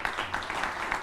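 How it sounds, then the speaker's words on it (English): A church congregation claps together in brief applause, a dense patter of many hands with faint recurring sharper claps, heard for about a second. "please, a round of applause."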